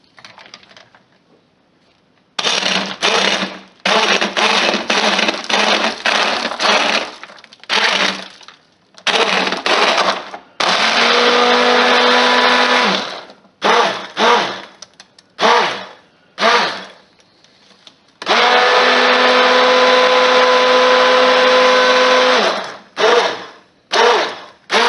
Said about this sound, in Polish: No i słuchajcie, możemy mieszać.